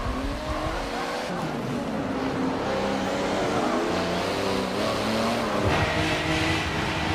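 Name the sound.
race cars driving in Forza Motorsport 7 video game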